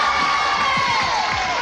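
Children in a game-show studio audience cheer and shout for a contestant, loud and close, with whoops rising over the noisy crowd.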